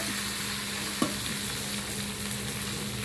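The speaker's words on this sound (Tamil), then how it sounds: "இது எல்லாத்தையும் நல்லா சேர்த்து கொஞ்ச நேரம் அடுப்பை சிம்மில் வச்சுட்டு கொஞ்சம் நல்லா வதங்கட்டும்" Onions, okra and tamarind sauté in a pan for okra chutney, making a steady close sizzle with a single sharp knock of a stirring utensil partway through.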